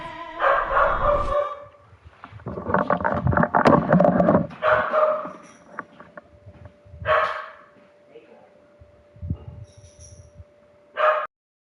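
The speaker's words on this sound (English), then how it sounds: "we'll see what my dog is barking at" A pet dog barking in short bursts at home, several sharp barks and yips spaced out with quieter gaps, close to the microphone, with a voice now and then.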